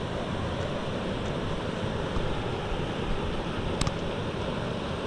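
Water pours out of a dam outlet into a creek gorge at a state park, making a constant loud broadband rush. One faint brief click stands out near the end.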